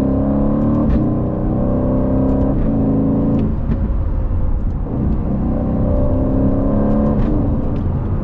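A 2020 Aston Martin Vantage, a rear-wheel-drive 510-horsepower car, drives on a damp road: a loud, close engine drone that rises and falls with gear changes throughout.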